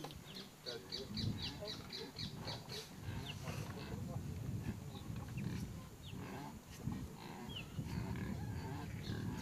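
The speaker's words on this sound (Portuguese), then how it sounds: "Como esse porco aqui, é um porco" A pig grunts in a rural indigenous land settlement with chickens and other farm animals nearby, low rough grunts recurring under steady outdoor noise with bird chirps high above.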